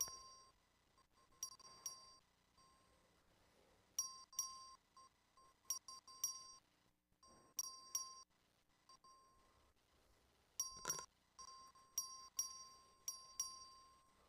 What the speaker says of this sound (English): Clerk, please ring the bell.